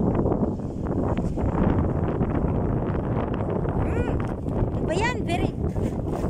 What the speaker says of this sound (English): How can you travel with this kind of wind?